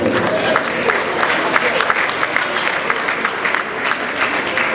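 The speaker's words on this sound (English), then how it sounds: "Could you also give me a round of applause?" Audience at a live debate event gives a steady, dense round of applause, loud and sustained throughout with scattered crowd murmur mixed in.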